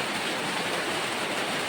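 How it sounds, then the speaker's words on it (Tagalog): Heavy rain pours down as a dense, steady broadband hiss, loud and even from start to finish with no voices over it. "Grabe talaga yung ulan, oh."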